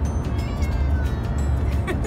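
A cat meows repeatedly from inside a moving car on a country drive, its plaintive calls rising over the steady low rumble of road and engine noise.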